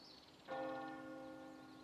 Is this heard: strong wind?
no